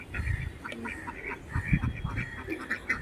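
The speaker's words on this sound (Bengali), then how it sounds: "দেখ কত হাঁসগুলো চড়ছে, দেখেছিস?" Ducks feeding on a pond give repeated nasal quacks in short bursts, close to moderately near, over a background of outdoor noise.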